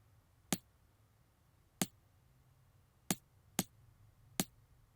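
A stacked snare drum sample from a classic hip hop beat cracks five times in a loose backbeat pattern. The sharp, short hits are faint and stand alone over a quiet low hum.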